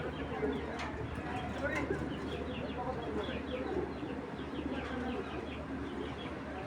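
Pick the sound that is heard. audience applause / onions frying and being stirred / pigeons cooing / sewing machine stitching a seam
pigeons cooing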